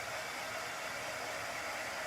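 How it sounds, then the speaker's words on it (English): A hair dryer blows on chalk paste over a Dollar Tree sign being made into a honey bee banner, a steady close whoosh running unbroken throughout with no voices. "I'm gonna blow dry that to see, make sure it doesn't smear on me."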